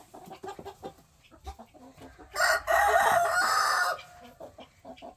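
Chicken on a breeding farm, a series of short clucks followed by a loud, drawn-out crow close by, then more soft clucking.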